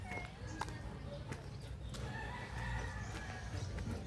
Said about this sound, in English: Lots of roosters.